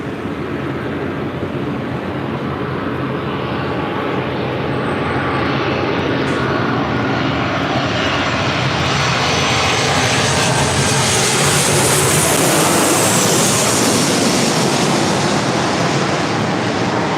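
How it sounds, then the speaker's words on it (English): A WestJet Boeing 737-800 jet arriving at LAX roars loudly as a continuous broadband engine rumble and whine that builds steadily as it passes close overhead. "Next arrival is WestJet Flight 1514 coming in from Calgary, a 737-800."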